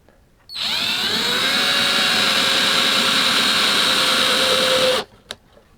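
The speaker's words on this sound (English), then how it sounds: "Okay, I've got my hole drilled." A power drill bores a hole in the bottom horn of an acoustic guitar body, one steady high-pitched whine lasting about four and a half seconds that starts and stops abruptly, loud and close.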